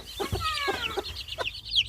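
A broody surrogate mother hen clucks in a run of close, soft, rhythmic calls with a few higher chirps mixed in, and there is no talking.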